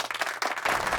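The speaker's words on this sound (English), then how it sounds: "And the crowd goes wild." A short burst of crowd cheering and applause used as a sound effect, dense clapping that swells louder in the second half, with no talking over it.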